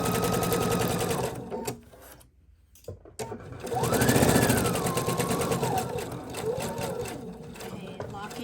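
A sewing machine runs in steady bursts while stitching a seam along mermaid tail fabric, stopping briefly in the middle before starting up again, with some background noise throughout.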